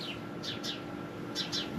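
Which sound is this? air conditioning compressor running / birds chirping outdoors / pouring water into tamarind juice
birds chirping outdoors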